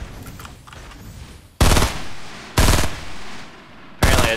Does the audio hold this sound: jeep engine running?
no